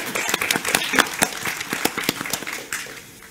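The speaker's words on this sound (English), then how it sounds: "give them all a round of applause before we look at questions from everyone" Small audience clapping for a panel at an accessible technology event, a short burst of distinct, fairly close hand claps with an uneven rhythm that thins out and fades within a few seconds.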